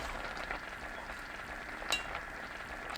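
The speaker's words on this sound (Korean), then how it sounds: "10분이 지나면 골고루 섞어줍니다" A spoon stirs cucumber doenjang stew in a pot after ten minutes of simmering over low heat, a soft bubbling, scraping texture with one brief clink partway through, close and alone.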